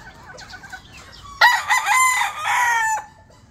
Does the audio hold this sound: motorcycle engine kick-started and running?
no